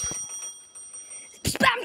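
A bell rings in the horror video game DOORS, a bright sustained electronic chime under quiet game ambience, followed at the end by a short burst of louder clicking and movement sounds.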